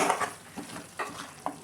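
Mutton curry with coconut powder and tomato being stirred in a pot, a few soft scraping strokes about every half second over a faint sizzle, close and quiet, with no talking.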